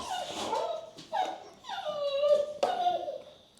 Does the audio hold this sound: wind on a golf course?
no